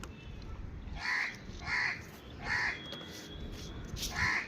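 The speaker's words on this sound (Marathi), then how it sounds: "इकडे खालीही टाकलं आहे आणि एक एक पक्षी यायला लागलेत" Crows arriving at food scattered on the ground, giving four separate harsh caws spaced about a second apart at moderate distance over faint background noise.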